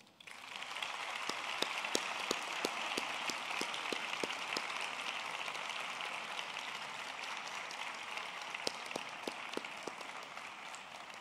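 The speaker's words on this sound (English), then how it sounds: "May we also ask the friends, well-wishers, and parents also to congratulate the graduates by a big round of applause" Sustained applause from graduates' friends, parents and well-wishers at a humanities and veterinary science graduation ceremony, a steady wash of many hands clapping with a few sharper claps standing out, continuing evenly without talk.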